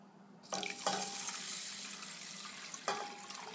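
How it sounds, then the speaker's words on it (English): Water is poured into a cooking pot holding about an inch of rice, a bright splashing stream that starts abruptly after a brief quiet and runs steadily for about three seconds, with no talking. "I'm going to add to that an additional 2 inches worth of water"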